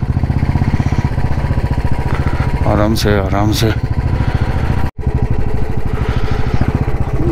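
A motorcycle engine idling and chugging steadily up close as the bike edges through a traffic jam at Suraj Tal on a rough, stony road, with a voice speaking briefly over the engine.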